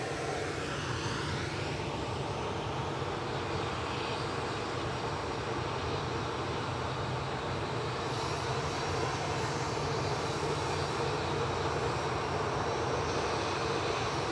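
A TUI airliner takes off from Manchester Airport, its engines a steady, loud broadband roar that holds throughout with a slight swell near the end.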